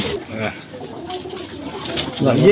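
Pigeons coo softly near the listener, a golden red pearl-eyed bird among them, with low throaty calls rising toward the end over background murmur.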